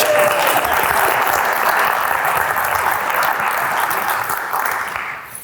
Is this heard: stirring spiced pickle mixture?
no